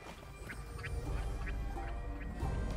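Bird calls in the video game Journey to the Savage Planet, a few short quacking cries standing out over a steady low game ambience and hum.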